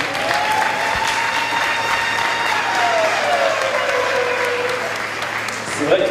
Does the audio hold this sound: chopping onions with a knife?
no